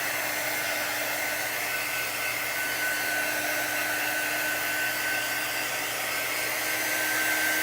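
A hair dryer blows steadily up close, drying chalk paint, a continuous loud whirring hiss with a steady motor whine and no break.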